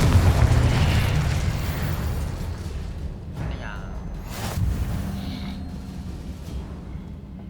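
Fire and blasting spell effects cast in the Hogwarts Legacy video game: a couple of brief booming bursts over a dense, rumbling game soundscape, moderately loud and with no talking.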